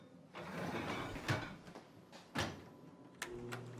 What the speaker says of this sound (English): don't you just love the sound of an empty dishwasher?